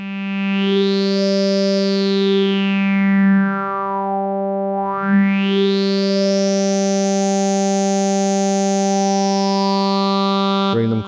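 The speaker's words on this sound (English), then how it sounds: "that's how you get those vocal style tones, by picking out a couple of harmonics" A PWM Mantis synthesizer holds a bright, steady buzzing tone while two picked harmonics sweep up and down together like a vowel-shaping voice, loud and continuous, ending with a short burst.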